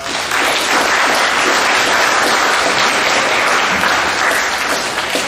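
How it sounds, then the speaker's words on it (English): Loud, dense applause from a school crowd for 8th graders at a middle school awards assembly, sustained and even from start to finish with no voices. "Give these 8th graders a round of applause."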